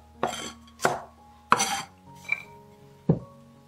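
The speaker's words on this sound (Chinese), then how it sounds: "青椒切成条" A knife chops green pepper into strips on a board, giving five crisp, separate close knocks at an uneven pace with short pauses between them.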